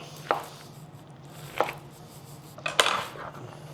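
A knife chops ingredients for loco moco on a cutting board, three separate sharp cuts spaced apart over a low steady hum, close and moderately loud.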